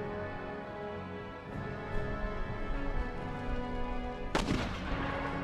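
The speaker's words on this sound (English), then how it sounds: "One mortar firing." A mortar fires during a battle in Empire: Total War, one sharp boom standing out over a continuous low rumble of battlefield noise and gunfire.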